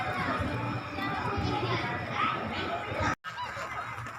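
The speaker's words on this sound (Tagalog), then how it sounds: "Dami gansa." Geese honk and chatter in a group in a park in Chaozhou, China, with a person talking nearby over the noisy flock.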